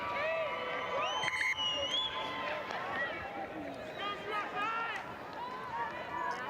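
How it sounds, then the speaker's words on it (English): A crowd cheers at a women's rugby match between the Springbok Women and the USA Eagles at Loftus Versfeld, Pretoria, a sustained wash of many voices with scattered whoops throughout. "There's some cheering from the crowd as Logan Wellman makes her way back onto the field"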